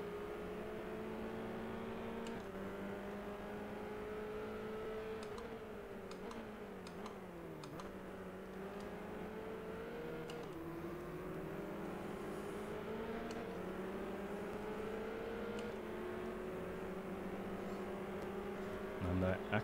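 Race car engine in the F1 Challenge video game during a British F3 race, a steady high whine that rises and falls with gear changes and throttle through corners, continuous and fairly loud, with faint clicks and a voice talking over it.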